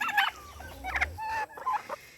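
Farmyard turkeys gobbling in short bursts of rapid warbling calls, mid-distance, with low rumbling background noise and other fowl sounds mixed in.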